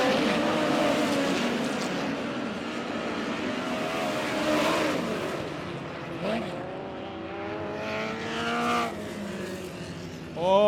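Midget race cars roar around the Lake Ozark Speedway dirt track, a continuous wash of engines from a distance with individual cars rising and falling as they pass, buried in crowd and track noise.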